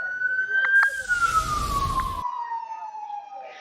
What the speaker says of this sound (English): that siren that you just heard going by us, that was actually the paddy wagon taking away some of the protesters